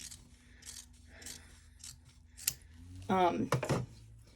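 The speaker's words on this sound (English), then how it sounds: "I am actually going to trim this a little bit because it's going to be too long." Scissors snip through zipper tape at a sewing setup for a sling backpack made on an embroidery machine hoop, giving a few quiet clicks and then a louder, crisp cutting crunch near the end.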